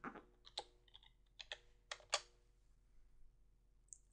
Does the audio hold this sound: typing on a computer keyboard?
yes